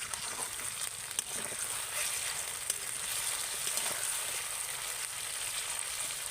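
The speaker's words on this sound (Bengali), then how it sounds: "উল্টো পিঠটা ভালো করে ভেজে নিতে হবে" Close, continuous crackling sizzle of okra frying in hot oil, even and unbroken with occasional faint pops.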